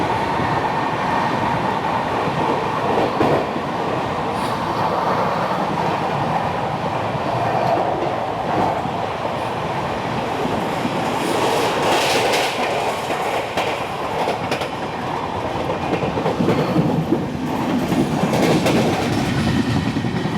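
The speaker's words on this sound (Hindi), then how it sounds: "कल्याण की तरफ दौंड एक्सप्रेस जा रही है, इंदौर दौंड।" Indian express passenger train running on rails, heard from on board, a continuous loud rumble with rhythmic clickety-clack of the wheels and a brighter rattling swell partway through, no talking.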